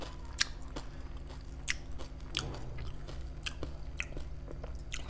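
Crunchy dahi puri being bitten and chewed close to the mic, with repeated sharp crisp crunches spaced through the clip over a steady low background hum.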